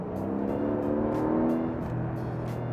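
A Porsche 911 Carrera GTS with turbocharged hybrid-assisted engine running steadily after start-up, a low even engine hum heard close by and alone, with faint periodic ticking above it.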